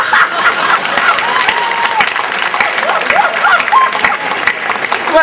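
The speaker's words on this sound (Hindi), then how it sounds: "मैं मन से आग्रह करूंगा मेरे साहस पर वो ताली बजा दे।" An audience claps steadily at a Hindi comedy poetry gathering (kavi sammelan), a dense continuous patter with scattered laughter and voices mixed in throughout.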